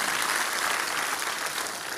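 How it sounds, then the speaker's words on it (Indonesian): Loud, sustained applause from a large church congregation during a worship service, steady dense clapping that fills the whole moment with no voices over it. "Coba beri tepuk tangan yang meriah buat ini."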